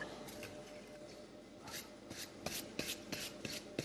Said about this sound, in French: On passe un petit coup de brosse un peu partout.